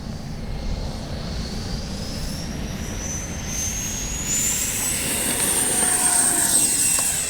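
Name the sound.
Freewing A-4 Skyhawk 80mm RC jet flying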